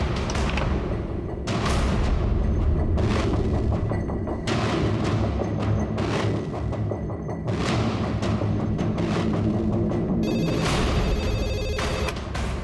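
A telephone rings over and over in loud, steady bursts in an apartment building with a stuck lift, with low booming thuds underneath the repeated rings.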